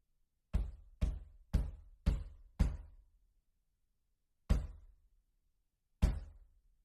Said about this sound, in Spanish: la puerta principal explotó con golpes